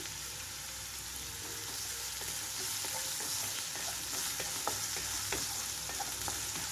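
Onions frying with a few sprigs of curry leaves in a pan for a taro root fry, a steady soft sizzle with scattered crackles and light utensil clicks, no talking.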